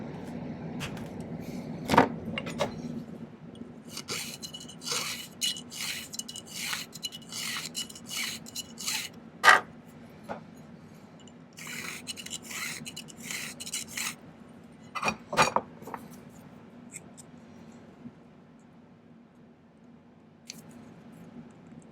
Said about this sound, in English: I'm going to take just a sliver out and file it again